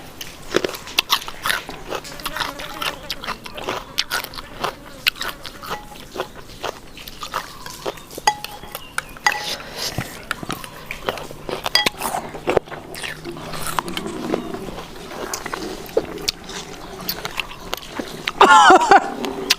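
Close, wet crunching and chewing of sour star gooseberries eaten with fermented fish sauce, continuing steadily with frequent small bites and mouth sounds.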